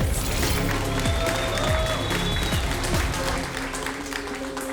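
A crowd applauds a debuting fighter at a bare-knuckle fist-fighting event, the clapping blending into a loud, busy arena wash over a thumping music beat that fades slightly near the end.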